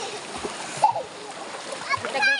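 Water splashes as people bathe in a river on a very hot day, with irregular nearby splashes and sloshing under lively voices talking.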